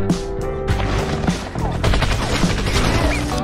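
Dense, rapid gunfire from the action film Ghost Sniper: a loud, continuous fusillade of overlapping shots and bursts, close and heavy, running through the whole moment with no pauses.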